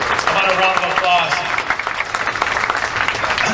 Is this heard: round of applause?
yes